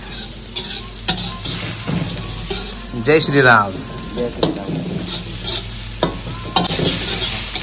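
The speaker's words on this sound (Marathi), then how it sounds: "कांद्याला फोडणी आली एक नंबर." Onion, cumin, mustard seeds, chilli and peanuts sizzling in hot oil as a tempering for misal, a close, steady crackle with stirring and a burst of spattering, while someone speaks briefly.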